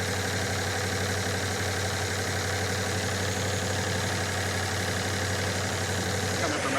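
Metallic clattering knock from a Cadillac engine idling steadily, a continuous rattly tick riding over a low exhaust rumble, close and loud throughout.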